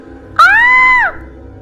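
Woman screaming in fright aboard a speeding bus, a single loud, sustained high-pitched shriek of about a second that rises sharply and then falls away, alone over quiet background hum.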